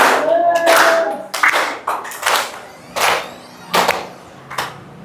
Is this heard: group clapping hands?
yes